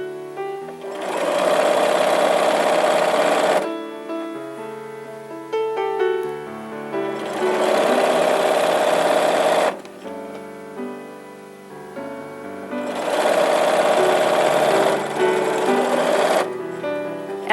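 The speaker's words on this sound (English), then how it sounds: "Before you get this out from under your sewing machine foot," A sewing machine stitches fabric in three sustained, loud runs of rapid needle clatter, each about two to three seconds long, separated by brief pauses.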